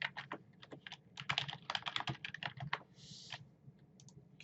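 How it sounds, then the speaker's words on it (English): Someone types a password on a computer keyboard in a quiet room: quick, irregular bursts of light key clicks with short pauses, close and fairly soft, and no talking. "I'm going to create a password."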